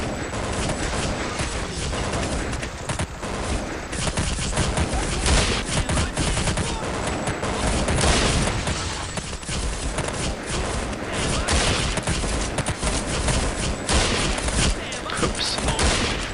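Dense, continuous gunfire from the video game Counter-Strike: Condition Zero, rapid overlapping shots and bursts running loudly and without pause across the whole stretch, with a voice faintly underneath.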